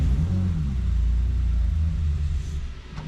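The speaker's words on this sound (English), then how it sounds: "We're ready for a test drive." A BMW E28 rally-cross car's engine idles with a steady, loud low rumble on a cold test drive; the drone holds evenly for a few seconds and then eases slightly near the end.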